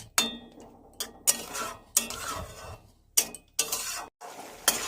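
A spoon stirs spice water in a pan for a raw tomato and giant prawn curry, making about five sharp metallic scrapes and clinks in an uneven rhythm, close and fairly quiet, with soft bubbling between the strokes.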